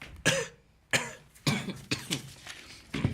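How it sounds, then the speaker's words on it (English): A series of sharp coughs, about six bursts spaced irregularly, close and fairly loud, with brief quiet gaps between them. "You fake cough, I real cough."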